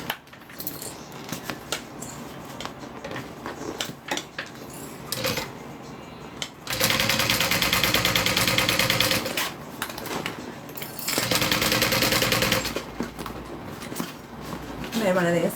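A sewing machine stitches in two long loud bursts of rapid needle clatter, broken by quieter pauses and handling clicks, with someone talking between runs.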